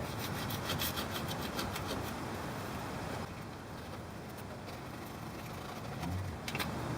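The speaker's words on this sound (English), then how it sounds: "I'm going to get a plastic scraper. Plastic won't scratch the metal." A plastic scraper rasps over the metal surface of a differential cover in steady back-and-forth strokes, close and fairly quiet, with a brief pause in the middle.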